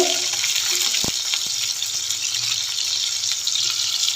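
Stuffed bitter gourds (karela) fry in oil with garlic, giving a steady, close, hissing sizzle throughout, with one brief clack of a utensil early on.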